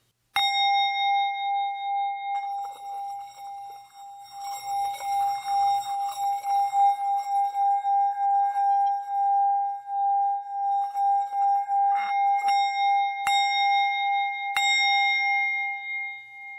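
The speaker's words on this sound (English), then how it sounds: "We start with the sacred bell." Sacred meditation bell, likely a singing bowl, struck at the start of a session and left ringing in a long sustained tone with gently pulsing waves, with a few lighter strikes later on.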